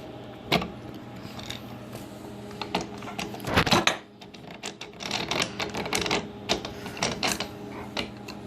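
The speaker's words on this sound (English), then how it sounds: "So I'm going to bring the carriage over to the right." The carriage of a Sieg mini lathe under rebuild, with a newly installed lead screw, is slid along its bed. It gives quiet, irregular metallic clicks, clunks and rattles, with one heavier knock midway.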